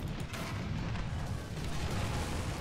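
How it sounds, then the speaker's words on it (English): Artillery fire in the tank combat game War Thunder, Tigers versus Shermans: a dense, continuous low rumble of booms and blasts rolling without pause, loud and heavy throughout. "Oh my god, artillery, man."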